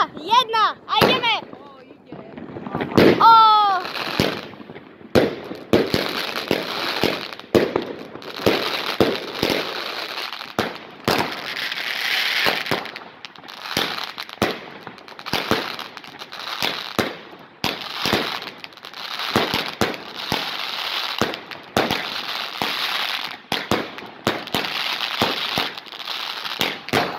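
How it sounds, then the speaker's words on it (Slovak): New Year's Eve fireworks explode in a long barrage of sharp bangs and crackling bursts, with a few whistling rockets at the start, then dense, irregular detonations rolling on for nearly half a minute. "Máme dorobené ohňostroje"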